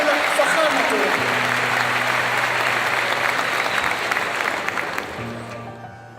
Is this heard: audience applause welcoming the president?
yes